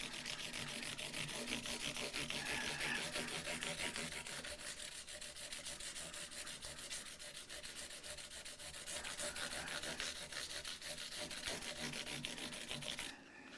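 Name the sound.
sanding guitar parts with 400 grit abrasive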